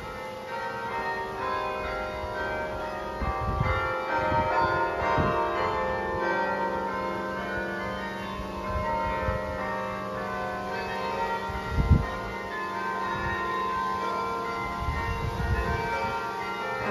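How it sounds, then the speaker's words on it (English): Tower bells ring out at Bok Tower Gardens, sustained tones overlapping in a steady, resonant wash, heard from a moderate distance with faint thumps and movement nearby and no talking. "The bells are ringing."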